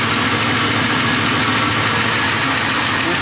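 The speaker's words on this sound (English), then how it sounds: "it still got a little tapping noise" Small block Chevy 406 V8 in a 1973 Impala idles steadily up close, a light rocker arm tapping running through the continuous engine rumble.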